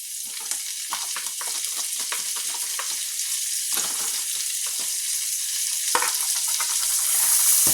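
Green pepper and onion sizzling loudly in a pan, a constant close hiss of hot oil with scattered crackles and occasional stirring knocks, growing slightly louder toward the end.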